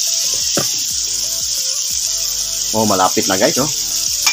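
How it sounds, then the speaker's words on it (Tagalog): Flour-coated chicken fries in oil with a steady sizzle and crackle, while someone talks over it in bursts throughout. "Para yung harina kapit na kapit dun sa piniprito ninyo."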